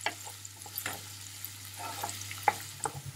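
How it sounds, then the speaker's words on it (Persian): Onions sauté gently in oil in a pan on the heat, a soft steady sizzle broken by faint stirring scrapes and a couple of light clicks, quiet and close with no talking. "روغن داخل ظرف مورد نظر می‌ریزیم و روی حرارت قرار می‌دیم و کمی تفت می‌دیم"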